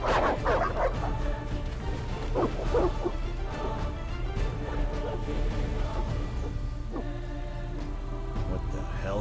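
Evil dogs in The Witcher video game bark and yelp repeatedly over a steady game soundtrack, several short barks scattered across the scene at moderate loudness, with faint speech mixed in.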